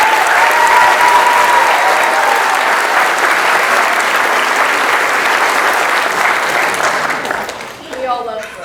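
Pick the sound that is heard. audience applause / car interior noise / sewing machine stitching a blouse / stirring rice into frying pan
audience applause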